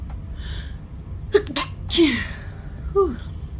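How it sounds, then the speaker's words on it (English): A single loud sneeze bursts out mid-clip, followed by a short breathy vocal sound; the rest is quiet room tone. "I tried so hard to pause it before I sneezed."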